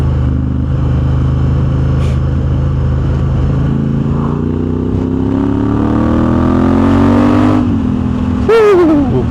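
A 2024 Honda CRF1100 Africa Twin fitted with an Akrapovic exhaust idles loudly, then revs in a long rising sweep that drops off, followed by a short sharp blip near the end.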